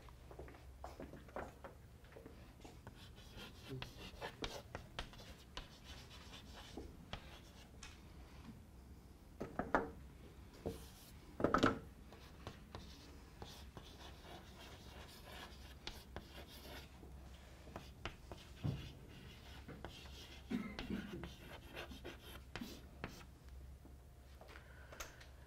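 Handwriting on a board or paper during an economics lecture, faint scratchy strokes and soft taps scattered over a quiet room tone, with a few louder marks partway through.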